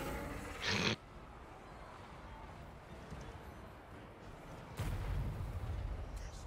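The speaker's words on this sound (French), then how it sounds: "Il y a encore un coup de canon." A heavy cannon blast in the video game Warhammer 3 booms at the start, then another thunderous shot lands near the end, separated by a low rumbling quiet.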